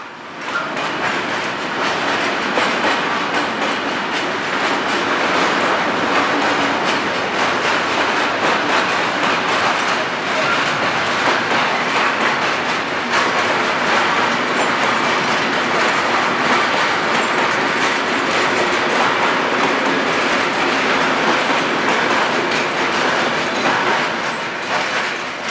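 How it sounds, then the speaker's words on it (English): A regional train pulls into an outer track at Cremona station in Italy, its wheels clicking and rumbling steadily over the rails with a broad, continuous roar and occasional faint squeal, no voices present. "there's another train over on the other side pulling into one of the outer tracks here at Cremona."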